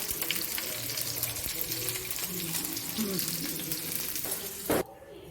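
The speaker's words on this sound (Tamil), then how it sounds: "கொஞ்சம் சின்ன வெங்காயம் கொஞ்சம் காஞ்ச மிளகா ஒரு நாலு கருவேப்பிலை கொஞ்சம் போட்டு தாளிச்சிட்டிங்கன்னா சூப்பராக இருக்கும்" Shallots, dried red chillies and curry leaves tempering in hot oil for a Tamil kuzhambu, giving a steady close sizzle and crackle throughout, with a brief louder clatter near the end before it quiets.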